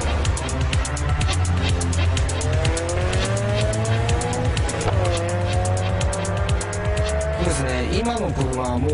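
A car driven hard on an evening road, tires squealing in long wavering shrieks that rise and bend over a roaring engine, loud and close and continuing throughout.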